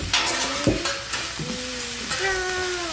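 Rice fries and is scooped on a home teppanyaki griddle, with soft sizzling and scraping under several rising tonal squeaks and a few short knocks.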